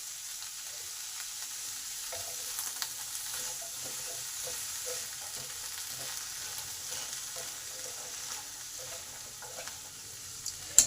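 Aubergine and potatoes fry in a pan with a constant gentle sizzle and faint crackle, broken by light stirring scrapes and a small clank at the very end; close but soft, with no talking.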